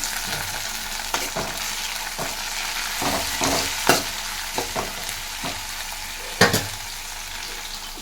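Onions and chopped fenugreek leaves frying in a pan for egg curry, giving a continuous hiss of sizzling broken by irregular sharp scrapes and taps of a ladle stirring, near and unaccompanied by speech.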